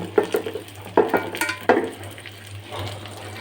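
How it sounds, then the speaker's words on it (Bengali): Cooked rice stir-fried with onions in a pan for fried rice: a few sharp spatula scrapes and clatters over a low, steady sizzle, close and brief. "আমি এখন ফ্রাইড রাইস বানানোর জন্য ভাত দিয়ে দিলাম।"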